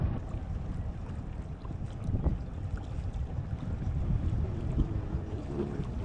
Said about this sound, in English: it's gusting really, 20 knots, blowing 20 knots right now.